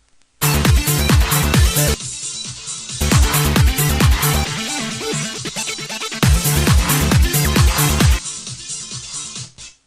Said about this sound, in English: and it's dance music, sounds like this.